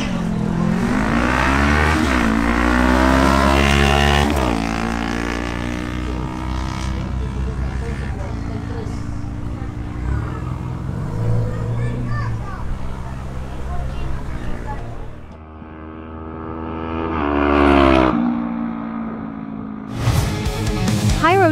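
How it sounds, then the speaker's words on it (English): A Honda CBR500R motorcycle makes a drag racing run at a Barranquilla strip, engine revving hard through rising, falling gear changes before fading out, then a second burst of revving near the end, with a crowd and an announcer's voice throughout. "Turan on his Honda CBR500R makes his run and thus claims the champion's trophy in the 14-second motorcycle category."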